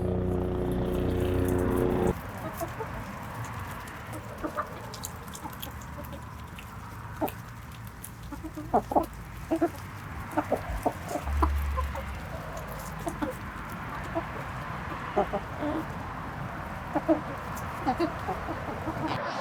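Hens cluck and murmur on and off over a steady outdoor background, with a few sharper calls rising above the low chatter.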